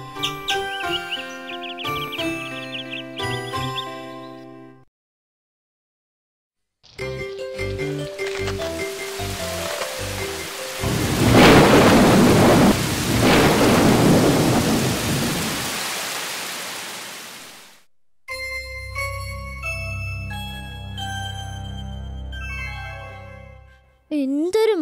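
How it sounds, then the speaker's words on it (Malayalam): In a Malayalam children's animated cartoon, a loud burst of heavy rain with rolling thunder fills the middle section, set between musical passages with chirpy cartoon tones before and after. "എന്തൊരു മഴയായിരുന്നു!"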